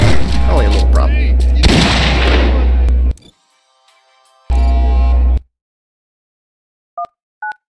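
Akimbo weapons firing in the video game Postal 4: a loud, dense burst of gunfire for about three seconds, then a second short burst after a pause, followed by two brief electronic beeps.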